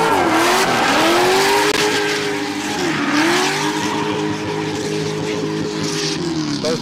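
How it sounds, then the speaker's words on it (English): Race cars roar loudly through a course under heavy left-foot braking, engines rising and falling in pitch while tires hiss and skid, close and continuous. "Both drivers throwing a lot of left foot brake action on the exit of the course."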